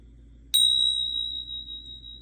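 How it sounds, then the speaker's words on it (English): A single metal bell struck once during an oracle card ritual, a bright clear ding that rings on with a long, slowly fading sustain over quiet room hum. "I'm just going to go ahead and use my bells"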